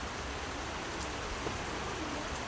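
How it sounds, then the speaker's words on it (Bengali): Light morning drizzle falling steadily at a schoolyard veranda where chickens shelter, a soft continuous patter of raindrops on surfaces with no voices, even and unbroken throughout. "সকালবেলা বৃষ্টি, বুঝতে পারছেন, ভালোই লাগে"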